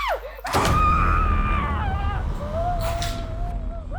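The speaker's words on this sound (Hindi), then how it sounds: "ये भी ना बहुत चिल्लाने लगी है" A woman screams shrilly and at length off-screen in a Crime Patrol household drama. The loud, sustained cry bends in pitch and carries on for several seconds, with a second strained wail toward the end.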